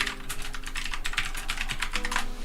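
Rapid typing on a computer keyboard, a quick run of crisp close key clicks in an uneven rhythm, fairly quiet and heard alone.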